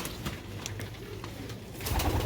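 Sialkoti black-faced pigeons cooing softly nearby, low repeated coos among faint background noise and light rustling, without speech.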